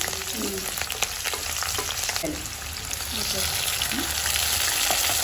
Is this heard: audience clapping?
no